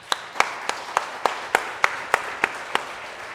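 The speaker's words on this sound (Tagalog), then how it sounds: "Wala bang palakpak sa Diyos?" A church congregation at a Sunday worship service claps in slow, evenly spaced single claps, about ten in a row, with no talking over them.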